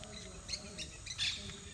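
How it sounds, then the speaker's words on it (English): Birds calling from trees in Peru, a few short chirps standing out over a steady bed of outdoor ambience, faint and at some distance, with no talk. "Birds crowing in the trees."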